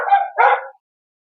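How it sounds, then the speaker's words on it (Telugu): A dog on a cattle farm gives two quick, sharp barks close by, then falls silent. "కుక్కలు భలే అరుస్తున్నాయి వెనకాల"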